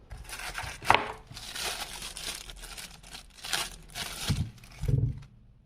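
Cardboard retail box for a ProMate Titan 160 power bank being opened, with crinkling and tearing of packaging, a sharp rip near the start and soft thuds toward the end, close up and without talk.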